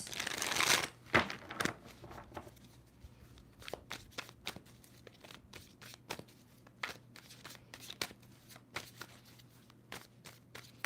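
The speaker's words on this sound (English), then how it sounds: "Two more shuffles." Tarot cards riffle-shuffled in a brief loud burst, followed by a run of sharp, quieter card snaps and flicks tapping out an irregular rhythm up close.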